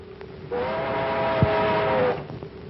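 A C&O streamliner train passes with a long, steady horn-like whistle tone that swells and then fades, with rumbling underneath, from an old film.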